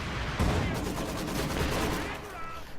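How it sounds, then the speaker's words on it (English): Half-track unit firing its guns in a strategy video game, a dense burst of crackling rapid shots and booms blending into a continuous barrage over about three seconds, with some game noise underneath. "More half-track firing away, but not hitting much."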